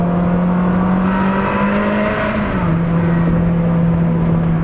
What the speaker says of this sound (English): When you put your foot down, it opens up the valves and you do get a nice kind of snarly exhaust note